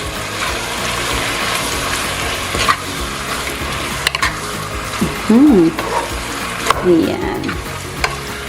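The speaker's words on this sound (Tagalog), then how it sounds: "I-mix lang muna natin." Pork adobo being stirred in a pan, a steady sizzle of frying with scraping stirs throughout; a voice speaks briefly once.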